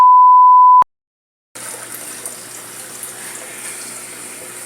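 A short steady electronic beep cuts off into silence. Then an aquarium canister filter starts up and water rushes and gushes through it in a continuous, hissing flow that stays steady to the end.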